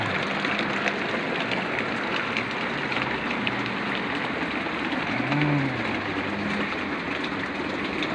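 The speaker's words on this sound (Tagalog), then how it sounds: "Ulan pa, hindi pa na wala si ulan." Steady rain falls on a late rainy Friday, a dense, unbroken hiss that holds evenly throughout with no voices, plus a faint low hum in the background.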